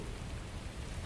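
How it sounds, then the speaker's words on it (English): Rain falls in the video game The First Descendant as a soft, steady hiss that is faint and even, with no voices over it. "this rain feels a lot like tears."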